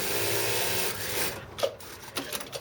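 A Brother S-7300A industrial sewing machine runs with a steady mechanical whir, then shifts to a few short, separate stitch knocks and clicks near the end.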